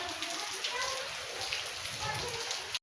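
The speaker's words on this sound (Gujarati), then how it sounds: "અમારે તો આ વરસાદ છે અને પવન" Steady rain with some wind, a continuous even hiss of drops on surfaces that holds at the same level throughout before cutting off abruptly at the end.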